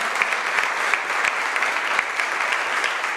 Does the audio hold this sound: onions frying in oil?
no